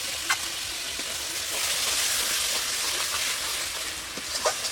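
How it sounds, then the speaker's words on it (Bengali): Spice masala with whisked yogurt frying in oil in a pan gives a steady, close, hissing sizzle, with occasional soft pops and stirring scrapes. "মশলাটা ভালো করে কষে নেব।"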